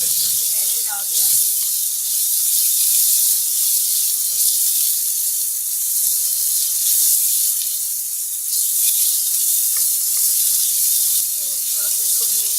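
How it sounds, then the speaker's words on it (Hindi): Peas being sautéed in a pan for chicken macaroni, a steady hissing sizzle close by that carries through the whole stretch, with a voice talking briefly at the start and end. "थोड़ा सा इसको भून के इसमें साथ ही हम 1 से 2 मिनट इसे भूनेंगे।"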